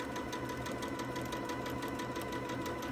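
A domestic sewing machine stitches a thin-fabric toddler quilt in a fast, even mechanical whir with a steady needle rhythm, close by and fairly quiet.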